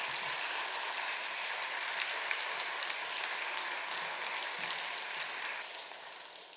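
A church congregation applauding in welcome, a faint, steady patter of many hands clapping together, heard from a distance in a large room and fading slightly toward the end.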